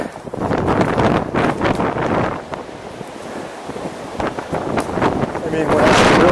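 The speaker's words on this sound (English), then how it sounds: "It's really windy." Strong wind buffeting a microphone on a Colorado mountain ridge near Blodgett Peak, a loud, roaring, gusty rumble that swells and eases throughout, with brief voices underneath.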